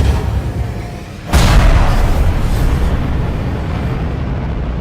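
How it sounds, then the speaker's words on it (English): A deep, roaring rocket-launch blast built from layered engine sounds and explosions kicks in suddenly after a quieter rumble, then sustains as a loud, broad engine roar that slowly tapers. "I layered a bunch of engine sounds with explosions to really give it that oomph"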